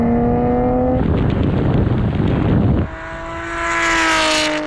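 A Nissan GT-R R33 and R34 accelerate hard in third gear from a rolling start, with a steady engine tone, then a loud roaring burst of power, followed by rising engine whine as the cars pull away.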